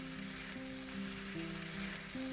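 Chicken and vegetables frying with soy sauce and lemon juice in a pan over medium heat, giving a steady, fairly loud broadband sizzle throughout, with a faint tonal hum underneath and no talking.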